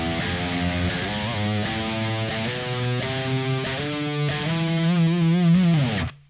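Distorted electric guitar runs up and back down a Phrygian Dominant scale in a metal style, single picked notes climbing and descending in steady succession, loud and alone, ending on a sustained low note that cuts off abruptly.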